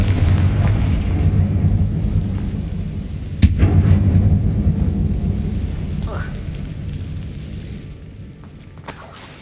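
A booming blast from the Confringo fire spell in Hogwarts Legacy, a sudden sharp crack midway over a steady rumbling, stormy game ambience that slowly fades toward the end.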